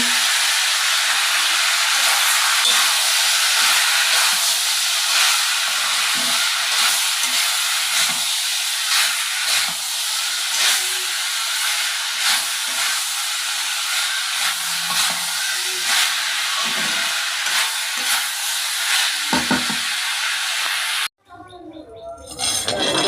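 Curry sautéing in a pan gives a steady, close hiss and sizzle with occasional stirring scrapes for about twenty seconds, then stops abruptly.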